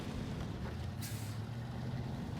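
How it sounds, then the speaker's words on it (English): In the SnowRunner video game, a heavy truck idles with a low rumble on Michigan hard mode. A brief hissing burst of air brake release comes midway, and the truck is heard up close. "You can hear the truck back."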